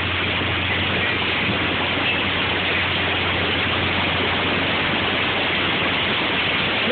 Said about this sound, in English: It just started pouring and hailing out of nowhere.